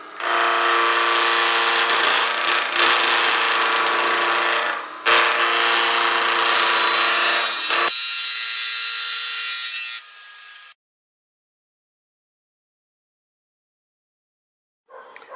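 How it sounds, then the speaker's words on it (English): Steady loud grinding of a woodturning skew chisel on a powered sharpener, running continuously for about ten seconds with slight shifts in pitch as the edge is worked, then cutting off into silence. "I'm going to go back to my skew and sharpen it again"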